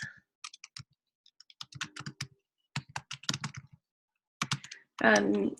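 Computer keyboard keys are tapped in short, irregular clusters of clicks separated by pauses, close and fairly quiet, with a brief voice near the end.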